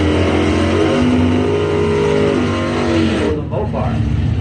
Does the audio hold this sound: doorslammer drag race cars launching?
yes